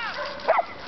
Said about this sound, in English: Jax, can you at least move around a little bit instead of barking?